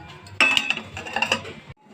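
Metal lid set down on a pot of eggs boiling on a gas stove, a sharp clatter followed by a couple of light clinks and rattles, close and fairly loud, ending abruptly.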